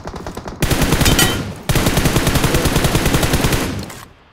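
Rapid automatic gunfire in the battle royale game BGMI, loud and close, with two sustained bursts of evenly spaced shots and a brief gap between them.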